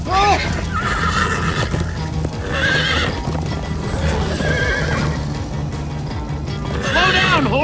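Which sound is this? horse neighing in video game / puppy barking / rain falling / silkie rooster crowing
horse neighing in video game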